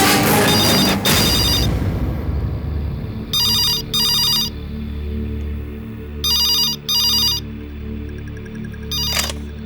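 A telephone ringing indoors in a drama scene, repeated paired bursts of bright electronic ring separated by pauses, loud and close over a low background rumble, with no talking.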